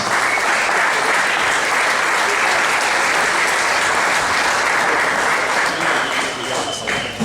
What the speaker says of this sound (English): Let's give the members a wonderful round of applause.